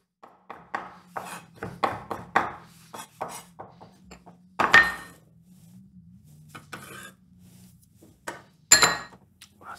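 A sharp knife chopping herbs and chives on a board for tartare sauce, a run of quick crisp taps followed by scattered heavier knocks and pauses, close and clear.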